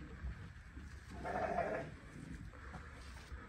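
A Hissar-Arashan breed ram lamb bleats once, a short wavering cry over faint background murmur, fairly quiet and a little distant.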